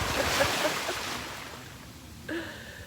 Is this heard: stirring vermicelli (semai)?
no